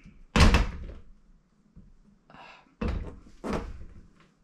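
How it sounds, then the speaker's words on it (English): The bathroom door of a 1973 Boles Aero 24 ft vintage camper, which will not stay shut, is pushed closed several times, giving a loud close wooden thunk followed by softer rattles and two more sharp knocks. "The door does not stay closed."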